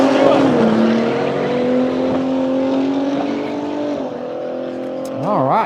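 Chevrolet Camaros race side by side at a no-prep drag strip at Cordova Dragway, their engines roaring loud and continuous as they run down the track, with people talking as the clip ends.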